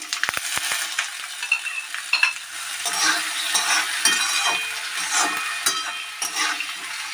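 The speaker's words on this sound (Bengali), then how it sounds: "এরকমই ফোড়নটা এরকম আওয়াজ হবে আর চারদিকে ছিটকাতে থাকবে।" White and black mustard seeds with five-spice tempering crackle and splutter in hot oil, a dense continuous sizzle scattered with sharp pops and spits, close and loud throughout.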